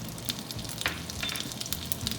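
Ginger sizzles and crackles in hot oil in a pan, steady and close, with small pops throughout and no talk.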